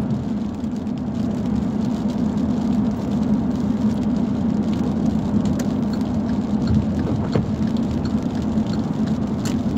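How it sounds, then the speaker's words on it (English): Steady rain drums on a car while driving at night toward Port St. in Puerto Rico, a constant broadband wash with a low road rumble underneath, continuous and fairly loud with no talking. "the rain starts to pick up."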